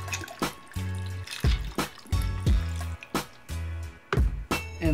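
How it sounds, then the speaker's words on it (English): Southern Comfort liqueur is poured into a glass over ice with cherries and juice, a gurgling, trickling stream with splashy glugs and cube clinks, close and fairly loud over several seconds, no voices. "Next, add a liberal amount of Southern Comfort into your glass."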